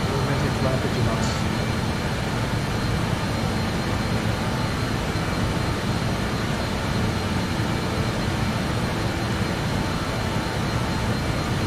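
A steady, loud engine drone fills an airplane cockpit during a climb out of Pokhara International Airport, an unbroken roar with no letup from start to finish.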